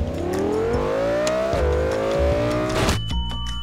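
A car in Garry's Mod DarkRP revs and pulls away, the engine tone climbing steadily for about three seconds before cutting off abruptly; no one speaks.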